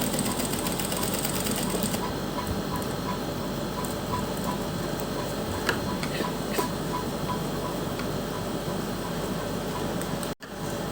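A sewing machine stitches along the folded edge of lace, its needle ticking in a fast, regular mechanical rhythm at close range, with a few small clicks and a brief dropout near the end.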